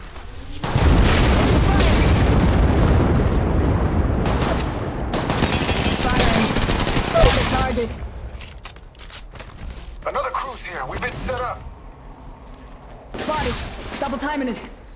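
Gunfire in the video game Apex Legends Mobile, dense bursts of rapid shots and booming impacts in several loud volleys, with in-game voice lines speaking over the action.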